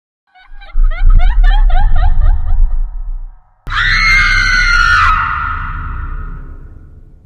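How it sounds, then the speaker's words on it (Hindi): Loud, shrill screams ring out inside a mansion in two long bursts, the first wavering and broken, the second a sustained cry that fades away with a reverberant tail. "अचानक हवेली में चीखें गूंजने लगी"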